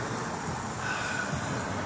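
Los Angeles Metro train rumbling past on Washington Boulevard near downtown, a steady muffled roll with a brief faint metallic squeal, no talking.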